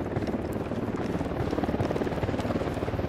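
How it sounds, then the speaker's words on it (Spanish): A helicopter's rapid rotor thumping pulses steadily and loudly in the video game Ghost Recon Wildlands, close and constant throughout. "Está viniendo un helicóptero."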